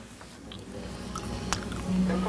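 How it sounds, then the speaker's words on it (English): Gum being chewed loudly close to the mic, a steady run of soft wet smacks and squishy bites under a low background hum. "I'm just chewing my gum."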